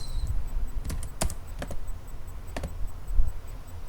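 Typing on a computer keyboard while writing Java code, with scattered quick key taps and a few louder clicks over a quiet, steady background.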